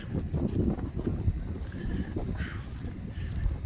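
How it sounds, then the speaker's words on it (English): Steady low rumble of wind buffeting the microphone, rising and falling in gusts, with faint outdoor noise behind it. "I don't know if you can hear on the video, but the wind's pretty decent."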